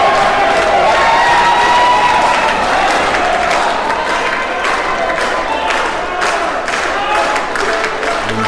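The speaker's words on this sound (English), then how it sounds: "this crowd going nuts here" A wrestling crowd at a Zelo Pro show roars and cheers loudly without letup, with shouts and scattered clapping running through the whole stretch.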